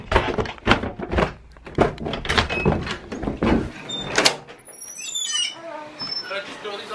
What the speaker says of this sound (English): Can open the door.